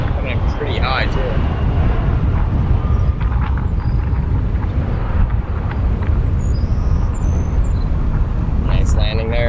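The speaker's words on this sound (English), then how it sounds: "Nice landing there." Embraer airliner landing at Chicago O'Hare airport, a steady broadband roar of engines and rushing air with wind buffeting throughout, loud and continuous, with people talking at times.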